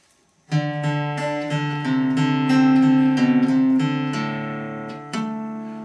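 Guitar chords ring out in a steady strummed pattern, bright and close, with clear changes between chords and no voices.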